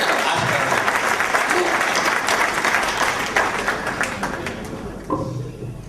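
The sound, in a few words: audience applause for the poet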